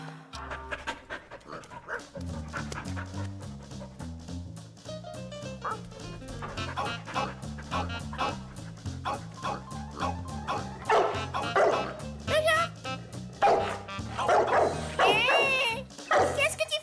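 Dogs, including a Labrador, bark, yip, pant and whimper repeatedly over a steady piano music bed, growing louder toward the end, with voices talking in between.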